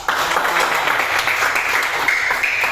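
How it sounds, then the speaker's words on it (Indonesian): Classmates in a school classroom clapping for a student named Bernard, a dense, even round of applause from many hands at fairly close range, no talking over it. "Tepuk tangan dulu buat Bernard."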